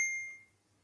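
An oven sounds a single bright electronic tone to signal it has preheated, sharp at first and then ringing out quickly into quiet.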